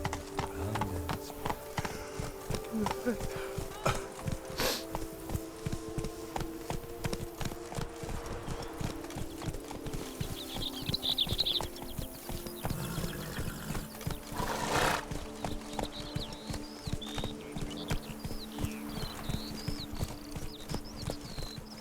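Geralt's horse Roach trotting in The Witcher 3 game, steady rhythmic clip-clop of hooves throughout, with a brief neigh and ambient forest sounds layered underneath.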